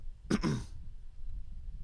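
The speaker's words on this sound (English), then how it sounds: "I've got to go cough" A single short cough, close and fairly soft, followed by quiet room noise.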